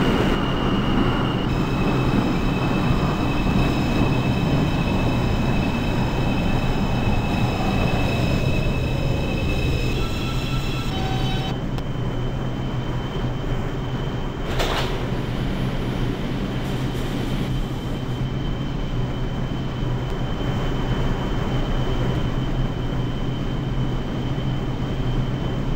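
A simulated New York City Transit 2 line subway train in the openbve game rumbles steadily along the track, with a descending whine early on and continuous wheel and motor noise throughout, no talking.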